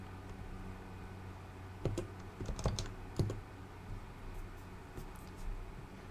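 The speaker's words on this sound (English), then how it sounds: "Am I actually typing on my computer?" Bursts of clicky keystrokes on a computer keyboard during a coding session on Spring Dataflow batch jobs in Kotlin, irregular taps clustered around the middle and end, close but fairly quiet over a steady low room hum.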